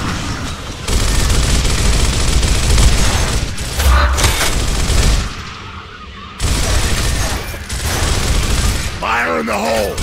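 Heavy gunfire shooting at tanks in the Gears of War game, with bursts of rapid fire, booms and mechanical clatter, briefly dropping away mid-clip before resuming loud and close.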